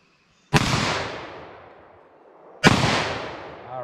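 .357 SIG pistol fired at a 25-yard target outdoors: two loud, sharp shots about two seconds apart, each ringing out in a long decaying echo.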